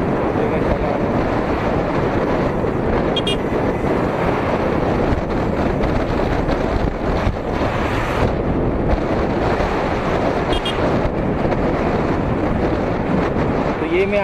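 Steady, loud wind rush buffets the microphone while riding a Tork Kratos R electric motorcycle on a highway near Pune, a constant roar filling the whole clip with no engine note standing out.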